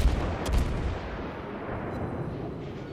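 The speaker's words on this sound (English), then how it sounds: "Definitely keep the guns firing." Naval guns fire in the World of Warships game, heavy booms near the start rolling into a dense, rumbling decay that fills the rest of the moment.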